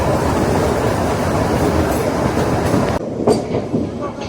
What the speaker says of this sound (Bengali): পাহাড়ের বুক চিরে এগিয়ে চলেছে উপরের দিকে এই টয় ট্রেনটি